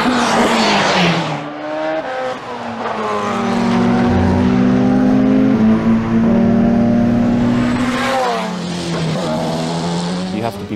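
A Porsche 919 Hybrid Evo race car with 1200 horsepower at full boost screams through a lap of Spa-Francorchamps, its engine holding a loud, steady high-pitched wail with clear pitch shifts as it revs and changes gear, close and continuous.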